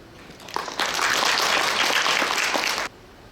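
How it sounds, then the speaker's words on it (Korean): An audience at a business summit keynote in a hotel ballroom breaks into applause, a dense, steady burst of clapping that starts abruptly, holds for about two seconds, and cuts off sharply. "김종윤 대표님께 뜨거운 박수로 맞이해 주시죠."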